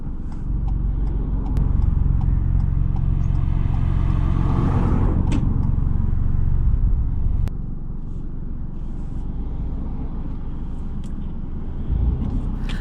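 A learner driver's car pulls away and drives along a road, engine rumble building loud and close, then easing to a steady cruising drone.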